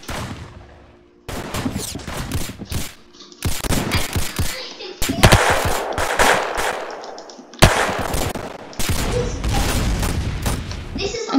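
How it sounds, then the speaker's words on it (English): Rapid automatic gunfire in the Roblox game Arsenal, loud bursts of fast shots separated by brief gaps, with a final sustained stretch of continuous firing. "This is like a rapid fire gun."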